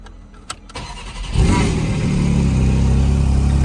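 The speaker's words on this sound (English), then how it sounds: "You can already start the car." A Porsche GT4 RS fires up after a short quiet moment, its engine catching with a sharp burst and then settling into a loud, steady, close idle that fills the rest of the clip.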